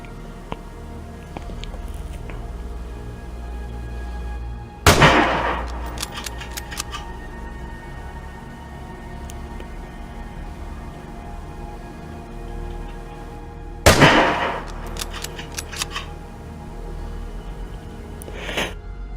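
Two sharp gunshot bursts from a long-range gun in the video game Vigor, each a loud crack followed by a short rattling tail, spaced about nine seconds apart over a steady low background hum.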